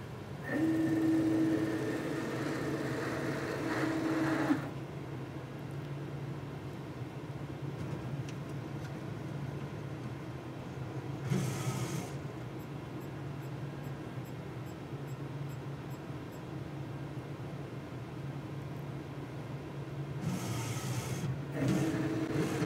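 A Ricoh Ri 3000/6000 direct-to-garment printer runs a nozzle check with a low, continuous mechanical hum and rasping carriage passes, plus a few short whooshing bursts and a faint tonal whine early on.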